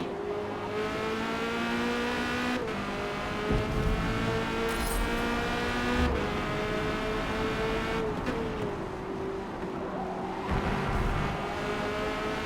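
A Corvette C8.R race car in a racing game at Hockenheimring drops down through the gears under braking, its loud engine whine stepping in pitch over a steady roar with no talking.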